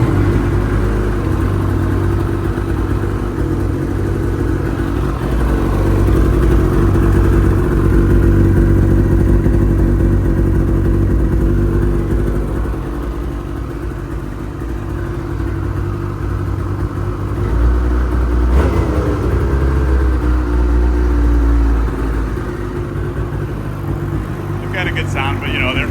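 A Ski-Doo Rev XP snowmobile with its stock exhaust idles steadily for the whole stretch, a low, even engine rumble with light mechanical clatter, heard nearby and fairly quiet, while a person talks over it.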